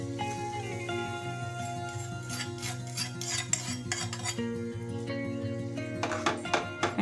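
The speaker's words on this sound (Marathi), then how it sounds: "आणि ही दह्यामध्ये मिक्स करून घेऊया" A spoon stirs a tempering of spices into curd sweetened with sugar for a fasting chutney, scraping and clinking softly against a bowl in short bursts over steady background music.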